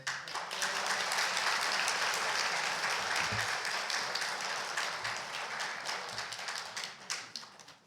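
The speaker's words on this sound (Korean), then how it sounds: "여러분 큰 박수로 이분들을 축하해 주시길 바랍니다" A church congregation applauds during a Christmas Day worship service, a dense sustained clapping that fills the room and gradually thins toward the end.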